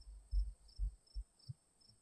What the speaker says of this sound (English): you can select some of them like crickets.